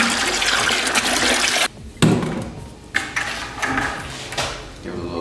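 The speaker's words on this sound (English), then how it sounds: "Now we empty this into our bucket." A jug of mixed coolant and water is poured into a bucket during a Nissan Pathfinder radiator replacement, making a close, sloshing gush that breaks off briefly, then resumes in uneven glugs and splashes.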